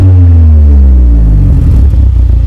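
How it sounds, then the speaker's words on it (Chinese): A 2015 Mercedes-AMG A45 (W176) with a modified exhaust, turbocharged inline-four, revs with the exhaust valve closed, a loud, deep engine drone that sweeps downward and settles into a rough, rumbling idle. "没开阀门的声音哦"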